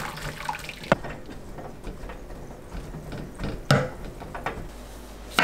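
Blanched potatoes drained through a sieve, with water splashing and trickling nearby at low volume, broken by a few soft clanks of the strainer.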